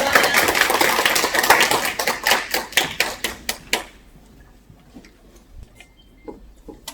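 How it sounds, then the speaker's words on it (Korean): A short burst of audience clapping welcomes the lecturer at a winter community workshop, rhythmic claps fading out after about four seconds into a quiet room with scattered faint taps. "박수 부탁드립니다"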